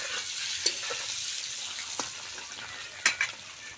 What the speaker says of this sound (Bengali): ডিমটা হালকা করে ভেজে নেব